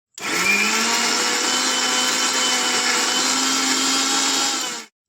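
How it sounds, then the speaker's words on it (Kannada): A mixer grinder whirs loudly and steadily for about five seconds blending red chilli chutney with lemon juice, starting abruptly and cutting off at the end, with no talking. "ಸ್ವಲ್ಪ ನಿಂಬೆಹಣ್ಣಿನ ರಸ ಹಾಕ್ಕೊಂಡು ಸ್ವಲ್ಪ ಮಿಕ್ಸಿ ಮಾಡಿಕೊಂಡು"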